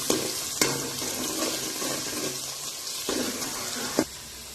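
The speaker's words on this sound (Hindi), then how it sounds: "ये अदरक लहसुन का पेस्ट इसमें डाल के इसको 5 मिनट के लिए भूनेंगे।" Onion with ginger garlic paste frying in a pan for salan, a steady close sizzle with a few sharp clinks and scrapes of a spoon stirring, no voices.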